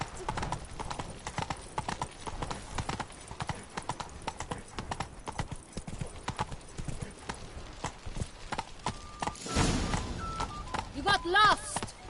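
Hooves clip-clop in a quick, even rhythm as a horse is ridden in The Witcher video game, close and continuous, with voices speaking over the hoofbeats and a brief neigh near the end.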